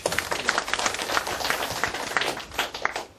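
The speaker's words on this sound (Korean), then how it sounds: "박수!" Applause from a lecture audience during a workplace happiness talk, dense overlapping claps forming a steady wash of sound with no pauses.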